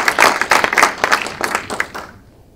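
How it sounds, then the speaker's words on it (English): A technology talk audience claps for a speaker, a loose cluster of distinct hand claps with an uneven rhythm, fairly near and loud at first, thinning out and fading to quiet by the end. "let's give a big round of applause to Kumar"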